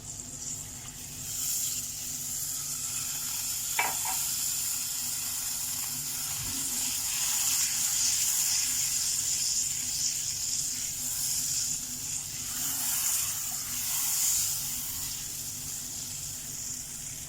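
Half a cup of milk poured into a hot pan while cooking chicken changezi, giving a steady moderate sizzle and hiss with a brief splash of liquid, no one speaking.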